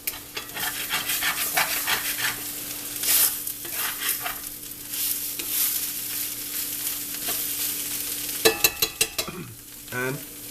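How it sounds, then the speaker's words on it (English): Meat sizzles in a single pan while being stirred, with repeated scraping strokes over a steady fry, close up and without talk, ending in a few sharp clanks. "Mix the meat up a little bit."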